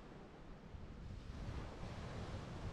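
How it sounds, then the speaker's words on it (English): Ocean waves wash onto a beach on the Fundy coast of Nova Scotia as a steady, swelling roar, with some wind buffeting the microphone and no voices. "going to sleep to the waves crashing."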